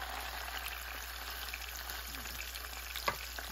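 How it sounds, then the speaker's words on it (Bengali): Marinated koi fish fries in hot oil with a constant, dense crackling sizzle, close and even throughout, with one faint knock near the end. "ভালো করে তেল গরম করে দিয়েছি, এখন আমি মাছটাকে এইভাবে ধরে দিব"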